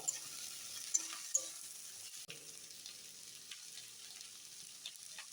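Capsicum and chili soya chunks frying in a pan, giving a soft, steady sizzle with a few faint clicks and stirring knocks, fairly quiet throughout, with no voices.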